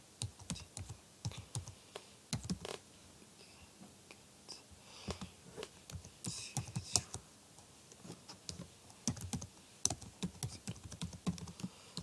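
Quiet, irregular keyboard typing with bursts of key clicks and short pauses, close and soft, with no voices.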